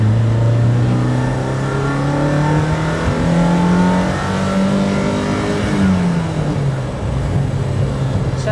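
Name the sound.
BMW M3 E30 1986 race car engine revving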